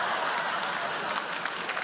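A comedy club audience claps together in a thick, even burst of applause, filling the room steadily throughout the short moment.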